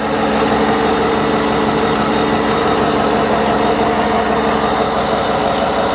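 A 5.3 V8 engine idles with a steady, even hum and a low rhythmic rumble, close by and unbroken for the whole stretch.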